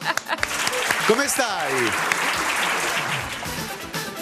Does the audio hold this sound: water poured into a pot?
no